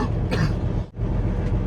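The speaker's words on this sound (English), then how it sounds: "Yeah, coughing again." A person coughs twice in quick succession, a harsh close-up cough followed by a shorter one, over a low rumbling background.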